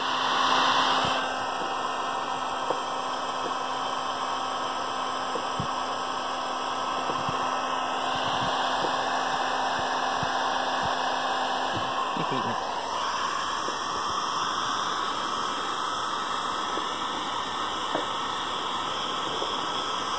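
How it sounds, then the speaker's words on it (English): A heat gun blows hot air in a steady, close whooshing hiss while loosening the logo on a Volkswagen Beetle. It runs continuously through the whole stretch, with faint voices underneath. "the heat gun's probably not even necessary"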